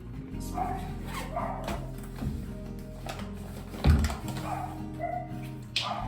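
Pet dogs bark in short bursts at home in Australia, mixed with household clatter and a sharp knock midway.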